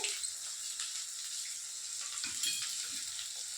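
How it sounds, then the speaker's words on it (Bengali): Fish curry spice paste with turmeric fries in a pan with a steady, close sizzle, while a spoon stirs and scrapes through it in soft, irregular strokes. "ভালো করে এটা নাড়তে হবে, সুন্দর করে এটা নাড়তে হবে"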